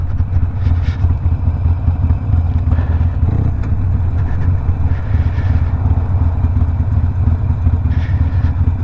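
A Harley Iron 1200 motorcycle rumbles steadily on a ride around town, its engine loud and continuous with faint clattering crackles and pops from the exhaust as it downshifts.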